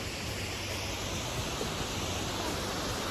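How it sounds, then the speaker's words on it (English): Brandywine Falls, a waterfall in Ohio, roars as a steady, loud, broadband rush of falling water that fills the scene without a break. "Brandywine Waterfalls."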